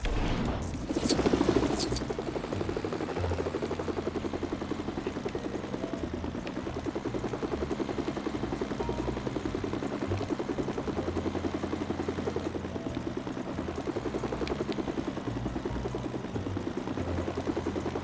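A helicopter flies in Lego Marvel Avengers, its steady rotor and engine drone running continuously at close range, with a brief louder swell near the start.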